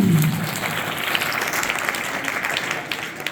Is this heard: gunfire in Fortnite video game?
no